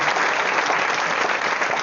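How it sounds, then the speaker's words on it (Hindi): Seminar audience breaking into applause, a loud, close, continuous wash of many clapping hands with no speech over it. "एक बार भगवान के लिए ताली बजाओ"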